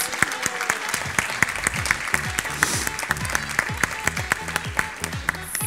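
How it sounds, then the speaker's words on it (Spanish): A crowd applauds a graduating kindergarten child at a preschool graduation ceremony, with steady overlapping claps and distinct sharp individual hand claps near the recorder, and murmured voices in the background. "Aplausos."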